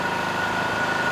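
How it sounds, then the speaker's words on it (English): A diesel generator that has run for about 15 minutes drones at a steady idle, loud and close, with a constant low rumble and an even mechanical hum. "the generator's been running for about 15 minutes now"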